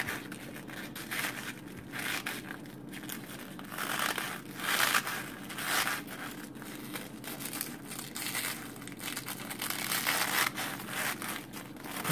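Tough artichoke leaves peeled back by hand, a close run of dry crinkling, crackling and tearing sounds in uneven bursts, with no talking.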